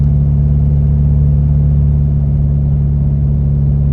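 A car engine working hard uphill after a downshift, a steady droning hum that stays loud and close, without clear rises in pitch.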